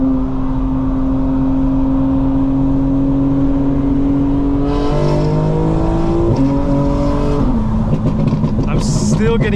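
A tuned 900 hp 2025 BMW M4 Competition xDrive accelerating hard from the driver's seat, engine droning loud and steady then climbing through several gear shifts, with a voice speaking over it.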